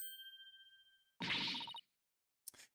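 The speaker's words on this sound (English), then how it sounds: "every time I hear that little ding sound" A little bell dings in a courtroom video game, starting with a clear sustained ring and followed by a louder clanging ding, then a brief faint chime after a pause.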